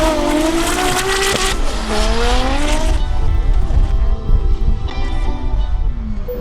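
Drift cars battling in a chase, a 2JZ-swapped Toyota GT86 hunting a Nissan S13 at Manfeild, with high revving engines wailing through gear changes and long squealing tyre screeches, loud and close, then a second burst of engine noise.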